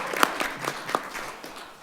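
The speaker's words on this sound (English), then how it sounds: "Let's have a little round of applause for her." Applause at a city council meeting in Wheat Ridge, a brief, modest round of scattered hand clapping from a small audience in a room, fading out within about two seconds.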